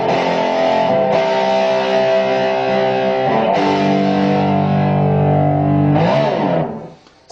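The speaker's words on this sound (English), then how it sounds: "why don't we just go ahead and crank everything up here, huh? Here we go. Tone and distortion on 10." An electric guitar through a distortion pedal with tone and distortion set to maximum, heavy sustained chords ringing loud and saturated, changing a few times before cutting off at the end, with no talking.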